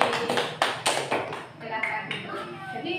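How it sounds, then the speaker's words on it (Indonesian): Classroom applause for a student named Devi during a teacher-training lesson on digestive disorders, a burst of scattered claps and taps from a small group, fairly close, with voices overlapping. "Tepuk tangan untuk Mbak Devi"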